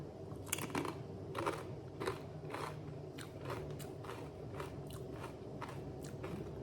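Blue Diamond Nut Thins crackers topped with salsa being bitten and chewed up close, a steady series of crisp crunches repeating roughly every half second over a low background hum, with no talking.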